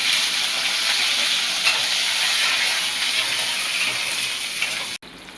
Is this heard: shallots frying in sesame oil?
yes